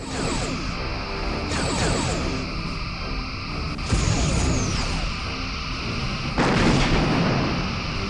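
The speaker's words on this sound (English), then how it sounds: "Loading quantum torpedoes, sir." Quantum torpedoes firing in the video game Star Trek: Bridge Commander, heavy booming launches with sweeping whooshes at several points over a constant engine-like rumble, loud and close.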